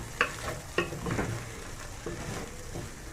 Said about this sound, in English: we wanna fry them na tutazifurahia tu hapa zilipo